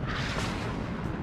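Artillery firing in the video game Warno rumbles as a heavy, low booming wash, a dense close barrage of blasts rolling together without clear gaps across a short burst.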